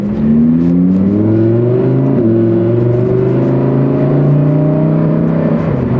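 A Lamborghini Huracán Sterrato V10 revs hard on a public road, a loud, steady engine roar with rising and falling harmonic pitch sweeping across the full clip, close and alone with no talk.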